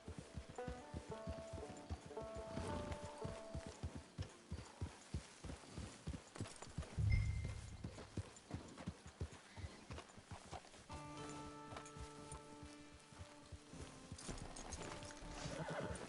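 Rhythmic clip-clop of horse hooves trotting in the video game Red Dead Redemption 2 Online, with a horse whinnying briefly midway and soft musical tones underneath.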